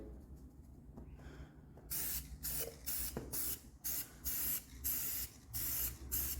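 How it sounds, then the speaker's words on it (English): An aerosol can spraying paint over tire marks: a quiet stretch, then a regular run of sharp, close hissing bursts separated by short pauses, with a faint low rumble underneath. "we're just kind of controlling the spray"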